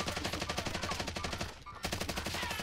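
Rapid automatic gunfire in a video game, a dense, steady stream of shots with a brief pause in the middle before the burst resumes, loud and close.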